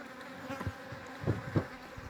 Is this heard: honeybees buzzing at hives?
yes